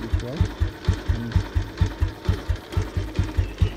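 A 1968 Royal Enfield Bullet single-cylinder engine idles with a slow, heavy, evenly spaced thump, about four beats per second, close and steady with no talk.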